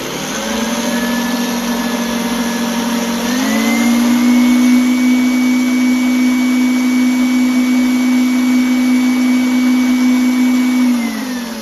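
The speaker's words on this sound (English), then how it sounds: "Just give it another whisk." Electric hand mixer whisking batter for toad in the hole, a steady motorised whine that holds for about eleven seconds and steps up slightly in pitch partway through, close and loud with no talking.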